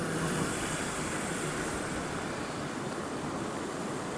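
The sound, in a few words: flood water rushing under a river bridge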